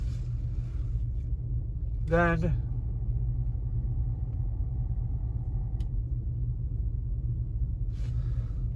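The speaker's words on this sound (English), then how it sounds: "you let it idle for 5 minutes" A 1992 Cadillac DeVille engine idles steadily with a low, even rumble throughout, its wheels set straight ahead, while someone speaks briefly over it near the start.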